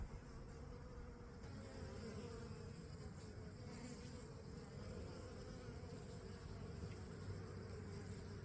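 Honeybees buzz around a hive on the Mediterranean coast as they return carrying pollen: a dense, continuous swarm drone, close and steady throughout with no voices.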